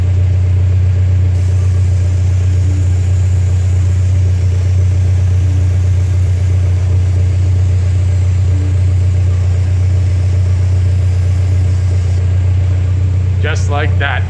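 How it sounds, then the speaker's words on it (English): A jacked-up car idling in gear with a drive wheel spinning freely, a steady low engine drone and hum held unchanged throughout, with a brief clatter near the end. "jack your car up, get your plasti dip, put it in gear, and then the wheel will start turning"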